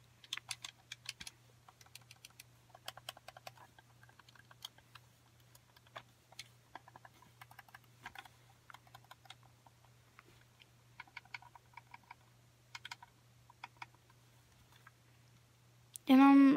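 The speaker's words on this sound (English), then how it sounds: "Let me try the clicking on this one." Button clicks on an Xbox One Combat Tech wireless controller come in quick, light bursts, scattered and irregular across the whole stretch, close and fairly quiet over a steady low hum, with a loud thump at the very end.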